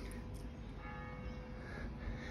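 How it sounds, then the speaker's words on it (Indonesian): A village church bell in Provence rings the hour, its faint, distant tones sustained steadily beneath a wash of outdoor ambient noise. "ini dengar lonceng, bunyinya setiap jam"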